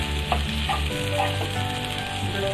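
Chopped capsicum sizzles and fries in a hot pan while being stirred for spring roll filling, a constant close crackle with a few soft scrapes and knocks of the utensil.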